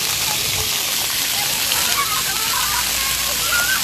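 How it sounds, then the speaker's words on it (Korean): Outdoor fountain at a stream-side plaza spraying water, with a steady hiss of splashing that shifts as someone steps on the jet to block it. "물 나오는 걸 발로 밟아서 이렇게 막아보는 재미도 있고"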